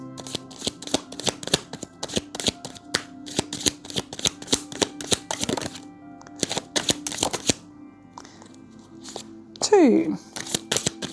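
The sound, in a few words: tarot cards being shuffled and dealt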